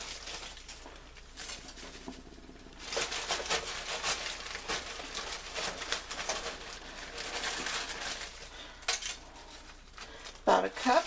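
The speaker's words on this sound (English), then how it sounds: "And then I'm going to add some frozen yellow carrots." Frozen yellow carrots tumble into a pan already holding drained chickpeas, a busy clatter and patter of pieces against the pan with scraping utensil sounds, fairly close and continuous, with a few sharper knocks near the end.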